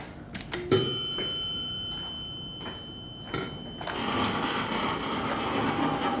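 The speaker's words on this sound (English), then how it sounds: "Let's ring the bell again." A single sharp ding of a vintage U.S. Hydraulic elevator bell, ringing on with a long sustained tone, then mechanical clatter and the rising whir of the elevator motor.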